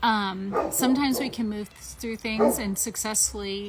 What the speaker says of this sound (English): I am so sorry about the barking